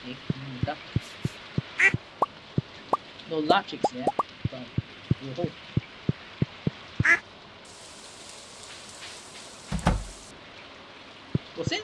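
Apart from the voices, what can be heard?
duck quacking in the video game Stardew Valley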